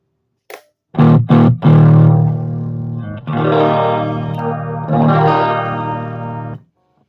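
A Firefly FFJA electric guitar played through effects, a few plucked notes and then sustained chords ringing with chorus, echo and reverb, loud and close with no talking.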